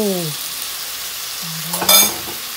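Chicken afritada sizzles in a pan as it is stirred, with a short burst of scraping near the end; a brief voice sounds at the start and again midway.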